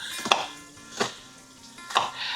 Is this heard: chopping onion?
yes